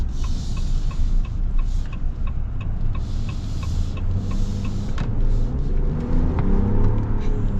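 A 2026 Ram 1500 Laramie pickup's engine pulls hard, a loud low rumble climbing steadily in pitch as the truck accelerates, with faint ticking from the cabin over it.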